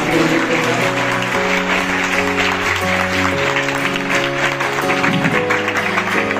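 Audience clapping at a school cultural program, steady applause running throughout over a loud background of music-like tones.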